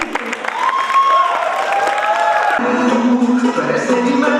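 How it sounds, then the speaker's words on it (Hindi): Clapping and cheering from an audience welcoming a performer onstage at a cultural function rise together with whoops and music, voices calling out over the steady applause. "एक बार जोरदार तालियों से स्वागत कीजिए"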